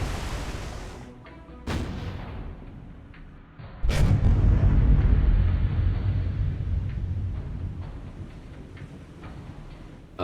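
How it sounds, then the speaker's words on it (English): Heavy booming impacts of 15-inch naval shells landing in the video game War on the Sea, with distant rumbling explosions, a sharp crack near the start and a big sustained blast midway, in a busy battle soundscape. "I think that's the sound of the 15-inch shells coming in."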